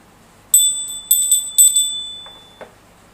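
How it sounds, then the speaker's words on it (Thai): A bright metal bell rings clearly in three close strikes, each leaving a lingering shimmering tone, during a Thai fortune-stick reading; a couple of faint wooden knocks follow. "ได้ยินกระดิ่งนี้จะเป็นกระดิ่งแห่งโชคลาภ และความสำเร็จนะครับ"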